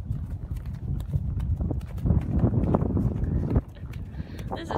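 Horse hooves clip-clop steadily over a rough off-road track in Ireland, with wind noise and a busy low rumble throughout.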